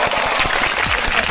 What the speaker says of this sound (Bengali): অর্পার জন্য হাততালি।